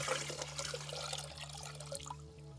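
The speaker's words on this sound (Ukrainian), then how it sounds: "переливаємо" Liquid fertilizer mixed for blackberry plants being poured into a ten-litre bucket of water, a steady gurgling splash with a constant low hum underneath, short and fairly close.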